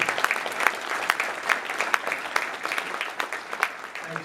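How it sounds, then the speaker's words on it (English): Audience applause at Enable's Shining Lights awards celebration in a hotel ballroom: dense, steady clapping from a large crowd with sharper individual claps popping out, sustained and fairly loud throughout. "give them a round of applause if you like"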